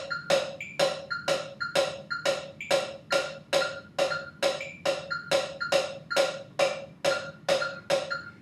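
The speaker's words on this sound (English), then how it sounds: "Whereas if you hear the metronome, like this for example" Drumming played off time against a metronome, with a steady train of sharp clicks and hits repeating roughly twice per second, close and moderately loud, no talking.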